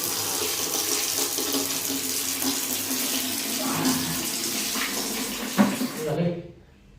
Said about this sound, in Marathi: तोंडावर पाणी मारून घेतो पहिले